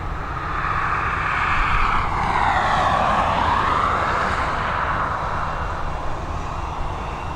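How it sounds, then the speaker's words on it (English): Airbus A320 in old livery, 22 years old, taking off from Dublin Airport runway 10R, a loud steady jet roar that swells with a sweeping whine midway and stays strong throughout. "We're heading to Izmir now with this A320, another one with the old livery."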